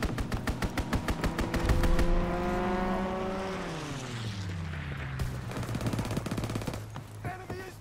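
Aircraft strafing run in Call of Duty: WWII, a rapid burst of loud machine-gun fire followed by a roaring plane engine sweeping past and fading with a falling pitch, then scattered distant gunfire.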